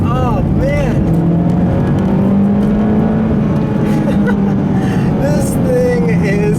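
A 2013 Mitsubishi Lancer Evolution X GSR drones steadily through tight corners, its engine note rising and falling loudly and continuously, while someone talks over it.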